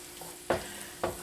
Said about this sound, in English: And we're going to let this simmer.